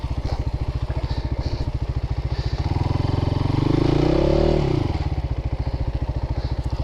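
A Christini AWD 250DS all-wheel-drive dirt bike engine chugs steadily up close, swelling into a loud rising rev around the middle as the wheel spins, then settling back to a lumpy idle.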